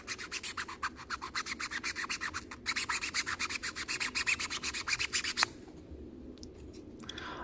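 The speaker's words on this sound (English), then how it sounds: "I sand down the seam with 320, as well as the other surfaces. Then I'll go over that with 800." A 3D-printed tool seam rubbed with 800 grit sandpaper in fast, steady back-and-forth strokes, close and scratchy, dozens of even rhythmic passes that stop abruptly, leaving faint scraps of rubbing.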